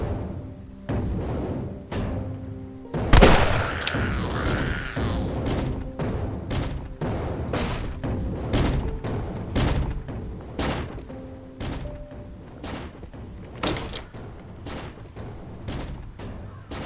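Pistol shots crack out in Zompiercer, a string of sharp, fairly loud single reports at uneven intervals, with one heavier burst of impacts early on and mechanical clatter in between.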